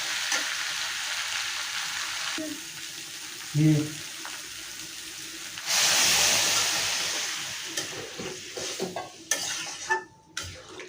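Shrimp and raw green jackfruit sautéed with spices in a pan, a steady loud sizzle with scraping stirs and a few clanks of utensil on metal, continuing throughout.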